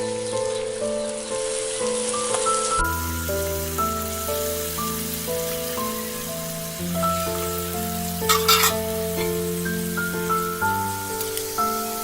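Cabbage and already-fried potatoes sizzle and are stirred in a pan, a steady hissing crackle beneath prominent background music, with a brief burst of scraping partway through.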